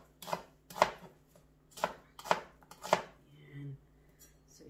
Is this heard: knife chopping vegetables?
yes